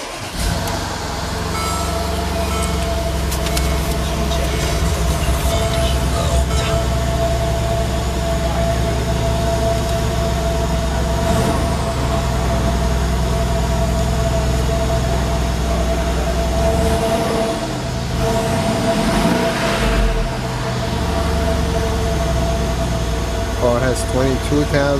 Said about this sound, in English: Let's hear the engine.